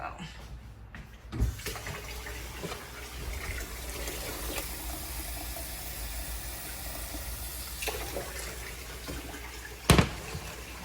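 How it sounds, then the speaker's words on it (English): Tap water running steadily into a pot in a home kitchen for rosemary hair oil, a continuous moderate gush with a few clanks of the pot. "I feel like I need a little bit more water."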